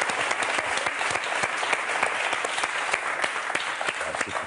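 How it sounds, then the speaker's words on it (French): Studio audience applause on the French game show Motus, dense, steady clapping from a crowd with sharp individual claps standing out throughout. "Allez, on vous applaudit très fort, Anne, Emmanuel."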